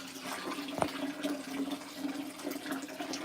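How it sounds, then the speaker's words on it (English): Rinse water drains out of a container after puppet fleece is dyed, a steady continuous gurgling wash of water with a faint hum beneath and one brief knock partway through. "now let the water drain out of it"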